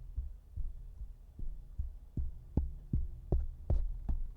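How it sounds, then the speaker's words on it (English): Fingers tap a Music Villa MV-3 dynamic microphone about a dozen times in quick succession, each tap a dull close-up thump, with the later taps landing a little harder and brighter, and no voice present. "Let's go ahead and tap the microphone"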